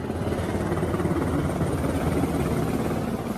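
Steady, loud thudding rotor noise of a helicopter, continuous and close, with no other sounds.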